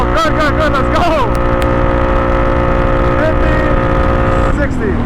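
A tuned four-wheeler ATV revs hard and accelerates through a run, its engine loud and close with rising and shifting tones, while voices talk over it.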